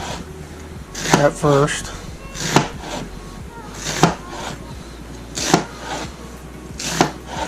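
Knife chopping an onion on a cutting board, a few sharp knocks spaced about a second or more apart, near and moderately loud, with a voice talking briefly at the start.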